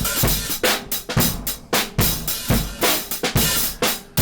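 A punchy drum beat run through a Mackie 1202 mixing board, with a gritty, saturated edge, kicks and snares hitting in a steady rhythm, loud and compressed.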